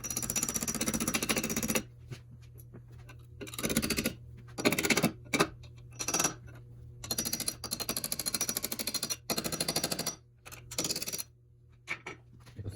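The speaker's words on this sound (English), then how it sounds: "And now we can tap it in with a little hammer." A small hammer taps on rear brake parts of a 1974 Triumph TR6, giving bursts of sharp metallic knocks that come in quick runs with short quiet gaps between them.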